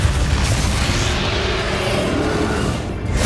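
A dense, booming blast from the Depulso spell in Hogwarts Legacy, a loud sustained rumbling impact with crackling noise that fades slightly at the end.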